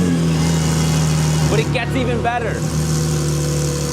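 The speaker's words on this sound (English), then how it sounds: "we never let you guys hear how good this exhaust sounds" Porsche 992-generation 911 with an upgraded exhaust running steadily with a loud, close engine drone, while someone speaks briefly over it.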